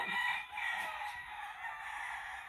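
A gamecock crows at a rooster auction, a single drawn-out crow with a slightly distant, moderately quiet sound and no talk over it.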